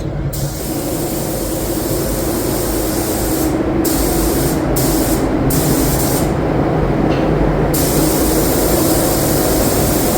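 Spray gun laying a third coat of black paint on a 2014 Harley-Davidson Street Glide, a steady close hiss running throughout with a few brief gaps in its highest part.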